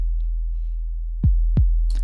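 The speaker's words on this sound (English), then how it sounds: "These are 808s from Sublab." Deep 808 bass from Sublab, saturated with Decapitator and shaped with Pro-Q EQ, booms twice over a constant low sub drone, followed by a faint high-pitched hiss near the end.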